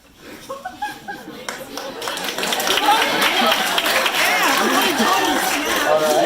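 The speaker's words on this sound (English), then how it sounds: "One guy claps to that." A lone audience member claps at a small open mic comedy night, with chatter and laughter from the crowd building underneath.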